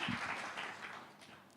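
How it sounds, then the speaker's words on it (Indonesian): A church congregation claps together during a Sunday worship service, a short burst of applause at moderate distance that fades over a second or so. "Beri tepuk tangan dulu untuk Tuhan kita Yesus."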